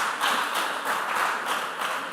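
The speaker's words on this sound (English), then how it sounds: "But please clap for them." A school audience claps steadily through a junior high school quiz semi-final, a dense even patter of many hands with a slight swell and fade and no talking.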